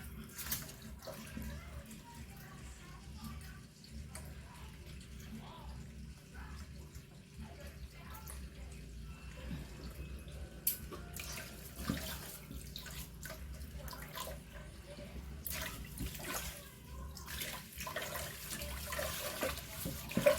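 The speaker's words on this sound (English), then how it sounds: "So you wash the rice until the water is clear." Raw rice is washed under a running kitchen tap, water streaming steadily and softly with faint splashing and stirring, close and continuous throughout.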